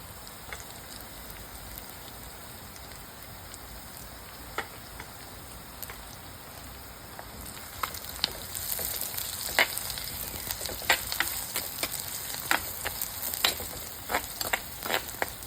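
Curry leaves sauté in a pan of hot oil for chicken kulambu, giving a soft steady sizzle that grows into louder, busier popping and crackling partway through, close up with no talking.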